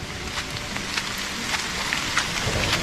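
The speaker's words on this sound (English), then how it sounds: "I know it's raining rather hard, plus the thunder" Heavy rain with thunder pours steadily at a campsite, with dense patter and scattered louder drops hitting a surface, no voices.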